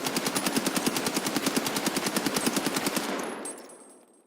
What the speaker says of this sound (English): Watch when I shoot the recoil.